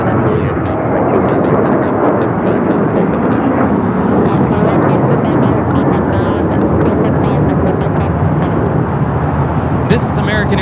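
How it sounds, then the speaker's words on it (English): An American Airlines Boeing 737-800 takes off at LAX, a loud, dense jet roar that stays constant throughout, with talk faintly beneath it. "This is American Airlines 3144 taking off to Indianapolis on the 737-800."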